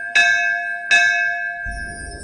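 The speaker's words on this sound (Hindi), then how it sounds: "तो फिर मौत की तीसरी घंटी बजती है" Two bright metallic bell strikes ring out about three quarters of a second apart, each with a sharp attack and long humming decay, loud and alone with no voices.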